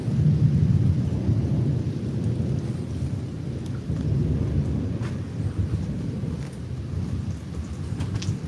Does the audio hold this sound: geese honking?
no